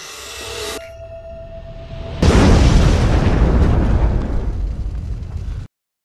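A box of dynamite detonating in a horror film scene: a sudden heavy blast follows a quieter tonal passage, then a loud rumbling roar with debris sustains for over three seconds before cutting off abruptly.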